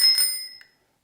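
A bicycle bell on a handlebar gives a single bright ding that rings clearly up close and fades out within about half a second, followed by a faint second tap.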